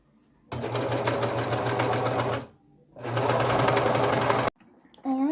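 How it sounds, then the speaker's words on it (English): A serger stitches the center seam of a jacket hood in thrifted fabric, running in two sustained, loud bursts of rapid mechanical whirring separated by a brief pause, followed by a short quieter stretch and a final spurt. "I'm also serging the center seam on the hood."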